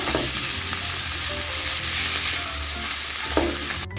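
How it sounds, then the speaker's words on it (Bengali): Sliced onion frying in oil on a medium gas flame for onion paratha, a steady close sizzle with occasional stirring scrapes throughout, no voices. "পেঁয়াজটা আমি গ্যাসটা মিডিয়ামে রেখে হালকা লাল করে একটু ভেজে নেব।"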